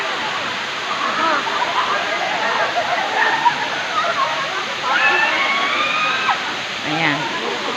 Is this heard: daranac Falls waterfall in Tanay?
yes